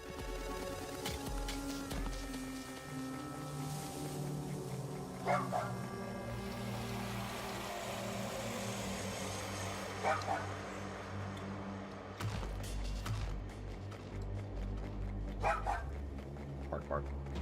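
A creature in the Palworld video game barks like a dog in repeated bursts over game sounds and music, while a person talks and also imitates the barking.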